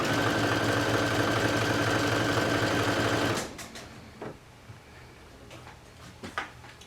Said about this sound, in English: And just create your second row of gathering stitches.